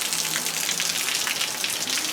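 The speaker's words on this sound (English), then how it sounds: "Rain drops." Raindrops fall steadily near a front porch with a leaky gutter by the door, a soft continuous patter with no voices.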